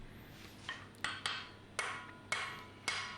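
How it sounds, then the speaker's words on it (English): A hammer strikes hot steel while forging the bevels of a continental seax blade, six crisp metallic blows at an uneven, unhurried pace, close and clear with no talking. "we're just going to use those half hammer face overlapping sets to drive our bevels down"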